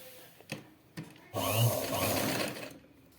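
A sewing machine stitches a double-folded strip onto the main fabric for a lace neckline, starting with a couple of short taps before a steady, close whirring run.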